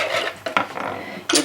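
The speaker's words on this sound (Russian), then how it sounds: "Перемешали." Utensils scrape and clink against a bowl in a few quick strokes, stirring sugar into dough for khvorost fried pastry, a close, busy kitchen mixing sound with no talking.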